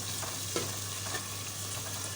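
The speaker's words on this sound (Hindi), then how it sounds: "चमचा चलाते रहें, आहिस्ता आहिस्ता देखते रहें" Spoon stirring onions as they fry in a pan for a bean-seed mince curry, a steady soft sizzle with faint scraping strokes, close and alone with no talking.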